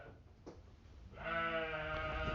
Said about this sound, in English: I hate sheep.